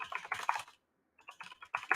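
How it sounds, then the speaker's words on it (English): Loud typing on a computer keyboard comes in two quick bursts of clattering keystrokes separated by a short silent pause, close and crisp with nobody talking. "Loud typing."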